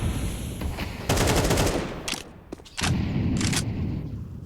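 Bursts of automatic gunfire from Counter-Strike on the Anubis map during a professional match, loud and repeated in several volleys with short gaps between them.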